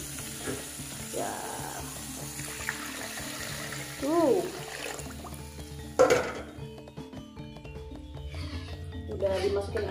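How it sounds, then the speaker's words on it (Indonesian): Water poured into a pan of seblak spice paste scraped from a stone mortar, sizzling and splashing against the hot pan, with a louder burst midway, someone talking over the cooking noise. "Masukin air"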